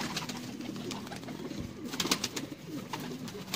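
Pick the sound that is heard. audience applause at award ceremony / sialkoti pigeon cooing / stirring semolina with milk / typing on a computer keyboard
sialkoti pigeon cooing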